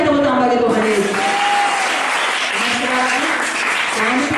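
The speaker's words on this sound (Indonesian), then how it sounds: "Berikan tepuk tangan bagi Tuhan Yesus." Congregation applauding at a church seminar service in Tondano, a steady, dense wash of clapping that carries through the whole stretch, with a voice singing or speaking over it.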